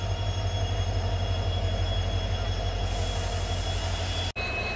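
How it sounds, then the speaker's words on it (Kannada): A WDP 4D diesel locomotive from the Krishnarajapuram shed, hauling the Mangaluru–Yesvantpur train, gives a deep steady engine drone, near and loud, with a high steady tone and a brief break near the end. "ಸೊ ಇದು WDP 4D KJMದು ಕೃಷ್ಣರಾಜಪುರಮ್ದು ಇದು ಇಂಜಿನು"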